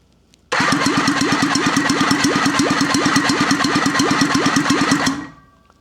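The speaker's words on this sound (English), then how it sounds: "you crank it over till it says stop" A Wankel rotary motorcycle engine cranks steadily during a compression test, a fast, even rhythmic chug of starter pulses that runs loud and close for about four and a half seconds before it stops abruptly.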